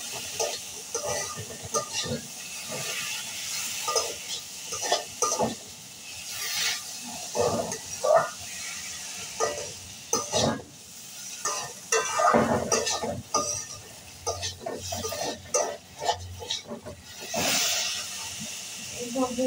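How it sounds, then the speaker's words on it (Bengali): Potatoes and fenugreek fry with spices in a pan, producing an uneven hiss and sizzle broken by repeated scraping stir strokes, with intermittent bursts throughout and a voice talking now and then. "এবার এগুলোকে মশলার সাথে একটু ভেজে নেব।"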